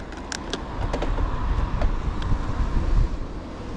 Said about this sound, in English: Actually seen a car for the first time.